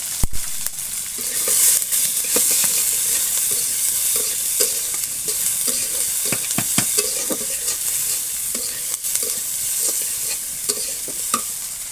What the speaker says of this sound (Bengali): দেখুন আমার মরিচ পেঁয়াজ ভাজা হয়ে গেছে